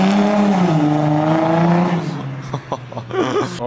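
Convertible car engine revving near, a strong harmonic drone that rises then settles, followed by shorter engine bursts with a voice speaking briefly.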